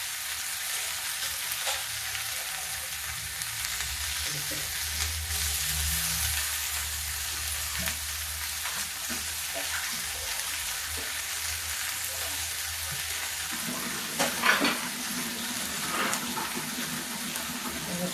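Raw spinach frying in a pan gives a continuous close sizzle with occasional stirring scrapes, steady and without talk.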